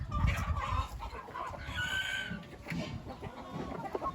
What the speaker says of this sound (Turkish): Bunlar da bu arada arkadaşlar yabancı kan Hint horozları